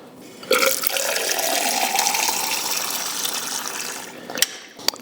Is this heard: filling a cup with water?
yes